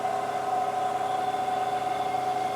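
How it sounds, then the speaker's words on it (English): A Ford Escape with a misfire idles in a steady, even hum with a constant tone, close and fairly loud, running without a break and with no voices. "I feel like it's idling a little high at the moment"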